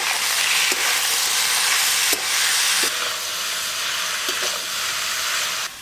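Potatoes and taro frying together in a pan with chilli powder, turmeric and salt, a loud, steady close sizzle with a few faint stirring knocks and no talk.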